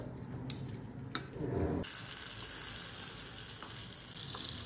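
Butter melting and sizzling in a little oil in a pan for pav bhaji, a steady broadband crackle that grows fuller after a soft clunk partway through, with a few small clicks and no voices.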